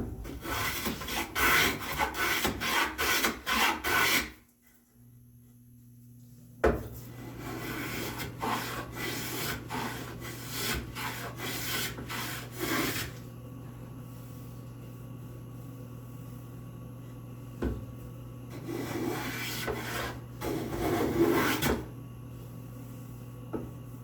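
A hand tool takes a few shavings off wood while fitting a spice rack, making quick rhythmic rasping strokes, then a pause and more scattered scraping strokes.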